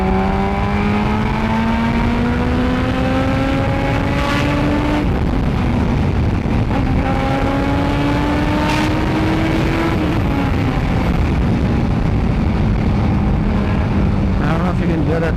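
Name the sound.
carburetted Yamaha RX motorcycle engine revving while riding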